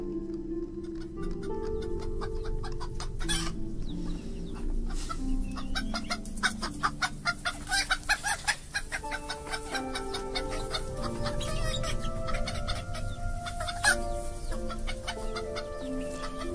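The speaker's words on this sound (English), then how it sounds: "Got to get some bird sounds in here," Chickens cluck in a busy, layered scene with other bird calls and game sounds, steady and fairly loud throughout.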